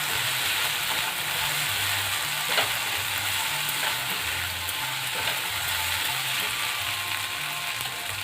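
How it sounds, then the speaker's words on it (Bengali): Turmeric, cumin and coriander powder frying in a pan as they are stirred, a dense steady sizzle with a faint low rhythmic scraping underneath, close and moderately loud. "এরপর দেব একটু হলুদের গুঁড়ো, এটা অল্প পরিমাণেই যাবে। এরপর দেব একটু জিরের গুঁড়ো। এরপর দেব একটু ধনের গুঁড়ো। সব কিছু খুব ভালো করে একবার মিশিয়ে নেব।"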